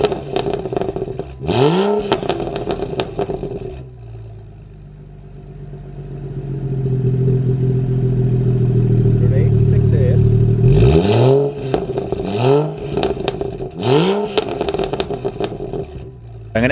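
A modified BMW engine revs in repeated bursts: sharp throttle blips around a rough idle, then a longer sustained rise in revs before more quick revs, loud and close, with voices talking in between.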